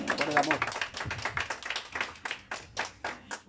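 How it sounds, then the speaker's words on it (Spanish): An audience claps after a mariachi birthday performance, steady rhythmic hand claps with voices mixed in, close and moderately loud. "Ese aplauso bien bonito."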